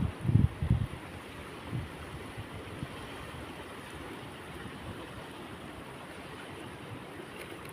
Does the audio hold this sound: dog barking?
no